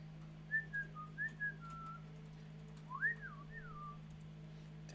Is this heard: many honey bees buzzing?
no